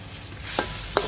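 Fettuccine being stirred through a creamy sambal tempoyak sauce in a pan, with a soft steady sizzle and two brief scraping stirs.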